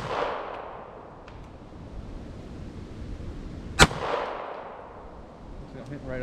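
A Bulgarian Makarov pistol fires a single sharp shot at a steel target, heard once as a brief crack midway through a quiet outdoor stretch with low background noise and no talk.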